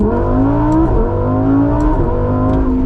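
A Lamborghini Huracan EVO Spyder engine revs up steadily in first gear, loud and close, with rising pitch that drops briefly at a shift before climbing again.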